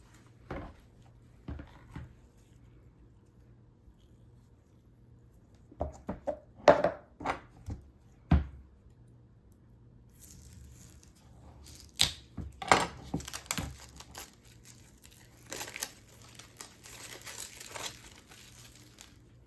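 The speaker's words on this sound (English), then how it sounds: "The instructions say to cut the soap base into, oh wow, it's soft, but it's hard" A block of melt-and-pour soap base being cut on a cleared work surface, giving a few scattered crunchy slicing and chopping strokes with pauses between, close and fairly quiet, followed by a longer stretch of crinkling handling.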